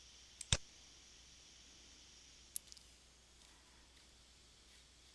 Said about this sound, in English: I can click on View Online, one of the links